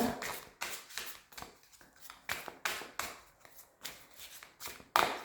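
Tarot cards are shuffled for a Sacré-Cœur reading, making a run of about eight quick, close riffling bursts in a steady rhythm, each fading before the next, with no speech.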